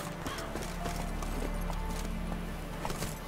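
Hooves of Roach, Geralt's horse in the video game The Witcher 3, clip-clop in a steady gallop over continuous background music, with no speech.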